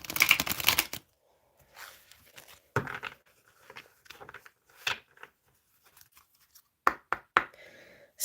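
Tarot cards shuffled by hand: a dense riffling burst, then scattered slaps, taps and flicks of cards in a quiet room.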